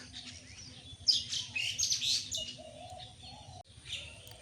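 A flock of birds chirping busily in a tree in a village, a lively burst of overlapping high tweets amid quieter calls and faint cooing, moderately close and without talk.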